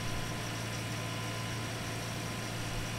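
A skid steer engine idles in Farming Simulator 19, running rich with flames from the exhaust, holding a steady low droning rumble with a faint hum on top and no voices.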